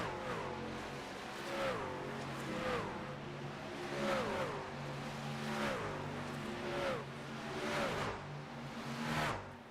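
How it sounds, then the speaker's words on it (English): Racing trucks in a video game truck series at Atlanta Motor Speedway roar past trackside one after another, engine notes rising and dropping in repeated close passes over a steady racing drone. "Do some trackside cameras as the trucks, these drivers go flying by."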